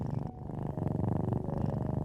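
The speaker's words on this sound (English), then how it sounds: "Purring is comfort, safety, and sometimes reconciliation." A cat purrs up close, a continuous low vibrating rumble with a steady rhythmic pulse that briefly dips before resuming evenly.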